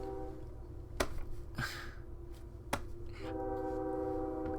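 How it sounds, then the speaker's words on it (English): A train passing outside in Indiana, heard as a few sharp clicks and knocks followed by a steady, rising drone like a distant horn or engine, with no talk. "Guys, I'm sorry if you hear this train."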